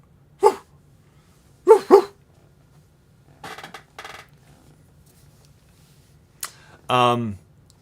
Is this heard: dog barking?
yes